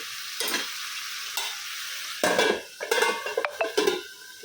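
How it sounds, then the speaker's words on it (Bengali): Onion and green chillies drop into a hot pan for a pumpkin and shrimp curry, bursts of sizzling followed by clattering spoon strokes against the pan and a busier, louder frying sound, no voices. "এখন দিয়ে দিলাম পেঁয়াজটা আর কিছু কাঁচামরিচ"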